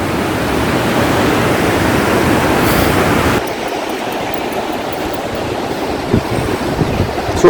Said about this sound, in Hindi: प्लस अगर आप देखें तो झरना भी है यहाँ पर।